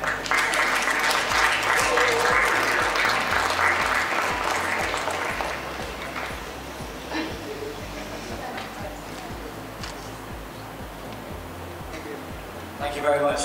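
Audience applause at an awards ceremony for a best Indian restaurant category, loud sustained clapping that tapers off, with a presenter's voice and background music underneath.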